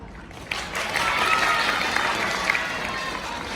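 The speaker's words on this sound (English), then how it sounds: "can I get a big round of applause" Audience applause answering a speaker's request, a big crowd breaking into loud, dense clapping that swells quickly and holds steady, with a hint of cheering mixed in.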